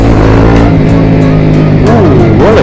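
A Yamaha R15 V4 motorcycle fitted with a Tridente exhaust, ridden at night, revs loud and close through 5,000 to 6,000 rpm as engine pitch rises and falls, with a rider talking over it.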